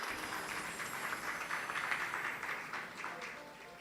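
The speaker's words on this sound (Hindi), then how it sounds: "एक बार ताली बजा दीजिए मोनू भैया के लिए" Audience clapping at a Shrimad Bhagwat Katha gathering in honour of a devotional tableau, a steady dense patter of many hands sustained throughout at moderate loudness.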